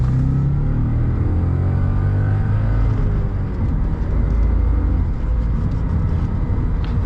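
A 2010 Audi S5 with a six-speed manual gearbox drones just after a downshift, a steady low engine rumble with road noise heard from inside the cabin, with no talking.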